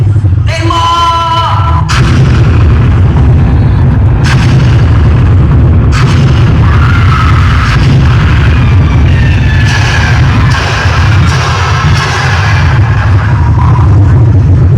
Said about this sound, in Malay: ini saya menembak meriam sekarang